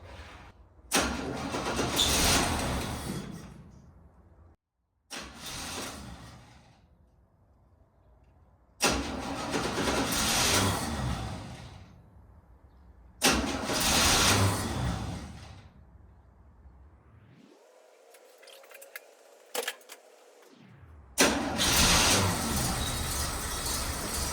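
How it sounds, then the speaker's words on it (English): A 1969 Chevrolet C10 engine being cranked with the key in several loud bursts separated by short silences, then catching and starting before running roughly. "Okay, so it started with the key. It's struggling right now."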